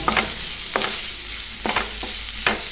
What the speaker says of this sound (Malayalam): ഇനി കുറച്ച് ചെറിയുള്ളി ഒരു ഹാഫ് വലിയുള്ളിയും വെട്ടിയുണ്ട് ഇതൊന്ന് ഇട്ട് കൊടുക്കട്ടെ